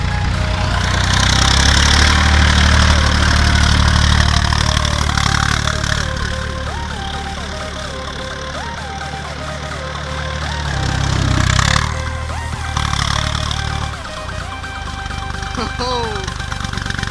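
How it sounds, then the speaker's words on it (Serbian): A tractor engine runs at a steady idle, its low rumble close and continuous, with people talking and shouting over it throughout and the engine note shifting slightly partway through. "Evo ga, Drakče, luduje sa traktorom."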